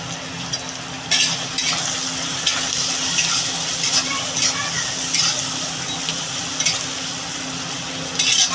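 Onion, garlic, coriander, cumin and chili powders fry in a pan for a dried-shrimp dish, a steady close sizzle with intermittent sharp scrapes of a spoon and a low hum underneath.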